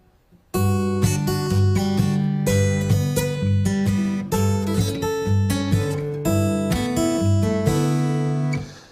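A picked acoustic guitar pattern at a steady, slightly slow pace, bass notes alternating under ringing upper strings, close and clear with no voices.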